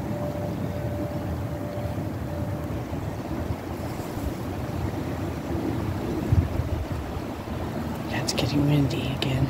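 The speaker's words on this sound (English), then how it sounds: "That's getting windy again." Steady wind gusts rush and buffet outdoors in Seattle, Washington, swelling slightly toward the end, with faint distant sounds underneath.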